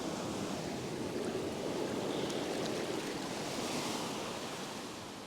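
Ocean waves breaking on a beach at low tide, a continuous loud wash of surf with no talk.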